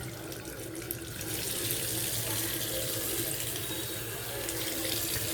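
Tap water streams steadily from a bathroom faucet as it is rinsed clean of stains, a close, continuous hiss and splash that holds at an even level throughout.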